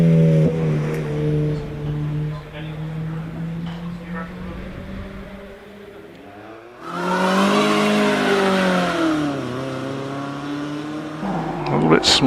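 At a Prescott hillclimb, a Renault Twingo 133 race car revs at the line and then launches, its engine note climbing and fading before a second loud surge of acceleration, with a commentator talking over it.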